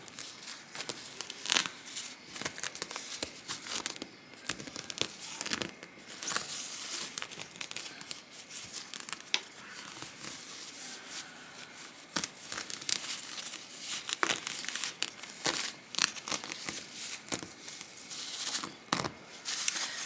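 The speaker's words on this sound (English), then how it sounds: "I'm actually just, honestly guys, gonna tear this away" Stabilizer backing being torn away from the back of a machine-embroidered towel, a steady run of crinkly papery rips and crumples close up, continuing without pause and with no voices.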